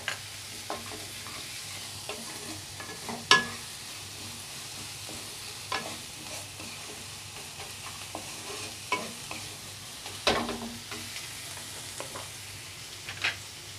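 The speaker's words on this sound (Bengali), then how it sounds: "পেঁয়াজটা ভাজা ভাজা হয়ে গেছে" Onions frying in a pan with salt added, the spoon stirring in sporadic scraping clinks over a steady, soft sizzle, close and fairly quiet with no talking.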